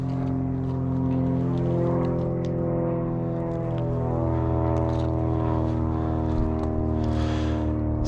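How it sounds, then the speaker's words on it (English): An airplane flies overhead, a steady droning hum with layered harmonic tones that shift slowly in pitch. It stays at an even, moderate loudness throughout, with no voices. "Say hello to our friend in the airplane up there."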